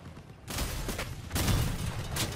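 A few sharp bursts of gunfire in the game Crossout, two louder volleys with a noisy rumble between them.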